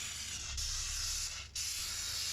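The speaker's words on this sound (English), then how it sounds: "So you make sure every nook and cranny, especially the nook, gets steamed." Steady broad hiss of a steam cleaner working over a car interior, close and continuous with two brief dips where the jet cuts out.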